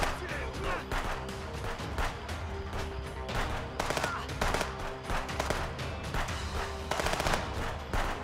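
Rapid gunfire from the video game Contraband Police crackles in bursts, with repeated automatic volleys and single shots over game music, loud and near, with occasional talking underneath.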